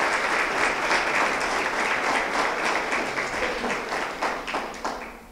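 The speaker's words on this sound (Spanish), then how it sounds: "les damos un fuerte aplauso y bienvenida a los que nos están viendo" A church audience claps and applauds steadily for several seconds, a dense, even wash of hands that fades slightly toward the end.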